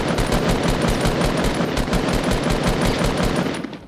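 Rapid automatic gunfire from a Fortnite Battle Royale match crackles in a dense, loud, continuous burst of evenly spaced shots, fading out only at the very end.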